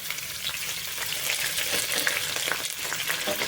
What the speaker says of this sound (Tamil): எல்லாம் போட்டு நல்லா வணக்கிக்கோங்க.